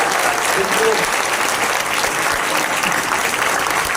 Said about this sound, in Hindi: तो मैं चाहूंगा एक बार जोरदार तालियां हमारे एमडी सर के लिए।